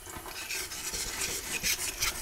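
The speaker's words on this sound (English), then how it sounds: "I'm going to get that with the 240 grit alundum stone" A 240 grit alundum stone rubbed over an enameled copper clay cuff, a soft, gritty rasping scrub repeating in short strokes, quiet and close.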